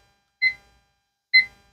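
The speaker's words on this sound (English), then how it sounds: "Oh, my timer." A timer gives two short, clear electronic beeps about a second apart, close by in an otherwise quiet room.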